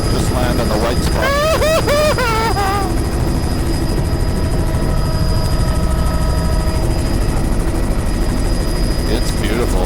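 Helicopter landing on a sand dune helipad, its steady loud rotor and engine roar filling the whole clip, with voices talking and exclaiming over it early on.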